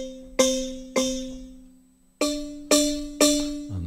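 Quilcom SIM GYIL plugin keys, wooden gyil tones with detuning: octave strikes in two groups, two then three, each ringing with a slightly wavering, buzzy decay after a brief pause, loud and close with nothing else heard.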